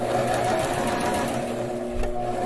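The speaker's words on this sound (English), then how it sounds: "then you're just going to sew over that again. Back and forth and back and forth." A sewing machine stitches elastic onto a surgical mask, a steady close whirring run of needle strokes that continues without a break.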